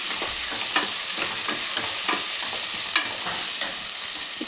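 Ginger garlic paste stirred in a hot pan with oil for Telangana-style pappu charu, a steady close sizzle broken by repeated spoon scrapes at an even rhythm, with no talking.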